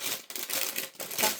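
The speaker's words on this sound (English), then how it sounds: "let me take it out, the little" Plastic wrapping crinkles and crackles as it is pulled off a pink and white Halloween trinket tray, a close, busy rustle with brief pauses.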